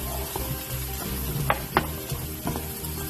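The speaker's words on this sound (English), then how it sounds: "I'm sauteing the mushrooms and onions together on medium-high heat." Mushrooms and onions sizzle in butter and bacon grease in a pan over medium-high heat, a steady close frying hiss broken by a few clattering stirs.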